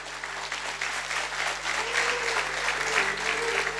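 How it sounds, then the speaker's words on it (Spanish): A church congregation applauds together in a lively, sustained burst of clapping, with a faint voice and low hum beneath the crowd. "Un gran aplauso."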